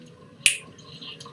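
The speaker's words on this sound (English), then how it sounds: "I can snap my fingers" A single sharp finger snap, crisp and close, in an otherwise quiet room.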